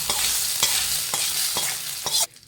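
Tempering of red chillies and curry leaves sizzling loudly in hot oil as it is stirred into tomato chutney, with a continuous close crackle, about five sharp pops or stir strikes, then a sudden drop to quiet.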